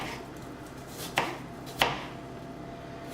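A knife chops onions on a cutting board for an omelette: three sharp, separate strokes spaced about half a second or more apart over a low, steady background hiss.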